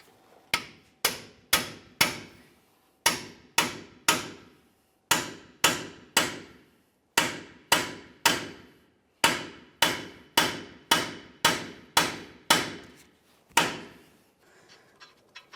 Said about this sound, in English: Use our hammer, give it a couple bonks to break it free.